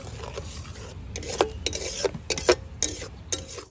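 Sugar stirred into homemade tomato sauce in a pan, soft close scraping and rubbing strokes with several sharp spoon taps on the rim, fairly quiet and with no talk.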